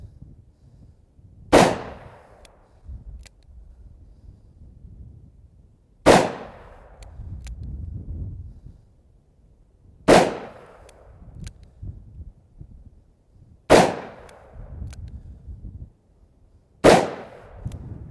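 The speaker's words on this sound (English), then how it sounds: "Okay, there's 6 rounds," A S&W 686 .357 Magnum revolver fires five loud, sharp shots at a target range. The shots come a few seconds apart, each with a short echoing decay, and faint rustling fills the gaps between them.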